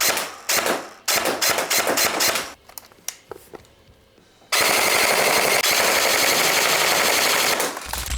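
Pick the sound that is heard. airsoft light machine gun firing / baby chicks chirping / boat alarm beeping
airsoft light machine gun firing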